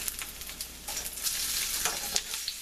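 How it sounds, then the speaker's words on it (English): Garam masala chickpea burgers just flipped in a hot pan, a steady close sizzle with small crackles and pops running throughout, no voices. "Now it's time to flip them over."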